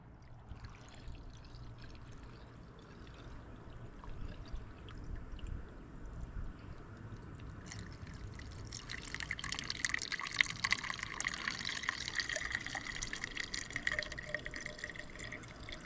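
Liquid pours steadily into a new filter for a Caterpillar C15 diesel engine, a continuous gurgling trickle that grows brighter and more splashy partway through.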